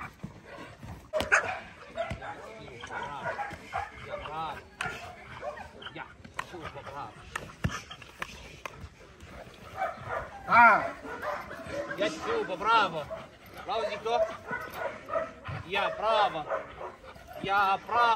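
A dog barks and yips repeatedly in bursts during a training session, close by, while people talk over and between the barks throughout.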